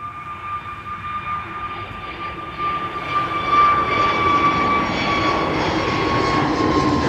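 An EasyJet airliner passes at Amsterdam Schiphol Airport, its jet engines building from a distant rumble to a louder steady roar with a thin whine on top.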